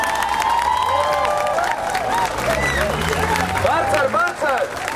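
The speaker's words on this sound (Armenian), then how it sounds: "բոլորս մի համառ կերպով ծափահարում ենք Գերմանիայի իշխանությունների և ժողովրդի" A crowd at an Armenian gathering thanking Germany claps together, a busy layer of applause running under loud voices and excited speech for the whole stretch.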